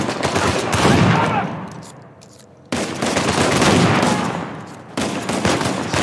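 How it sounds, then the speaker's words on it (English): Gunfire in Uncharted 4 hitting the player: dense bursts of shots and impacts in three loud waves. The middle stretch fades before the shooting cuts back in sharply, with faint talk underneath. "How am I getting shot in the back?"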